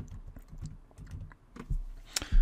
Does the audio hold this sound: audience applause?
no